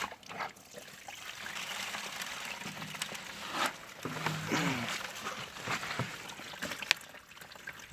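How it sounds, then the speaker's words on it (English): Water trickles over a sluice carpet while prospecting outdoors, a faint, uneven dribbling and splashing with low background noise and a brief murmur of voices. "Let's run some water over the carpet and just see if there's anything."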